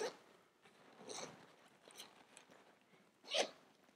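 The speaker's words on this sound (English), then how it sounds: "This zips all the way and the whole thing opens up." A diaper bag zipped open all the way around, a soft, close rasping zipper pull in a few uneven strokes, ending with a sharper tug near the end.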